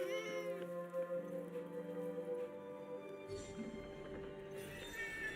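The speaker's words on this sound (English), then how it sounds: "A cat." A cat meows in the video game Forspoken, a drawn-out, wavering cry that sits fairly close over soft background music with no talking.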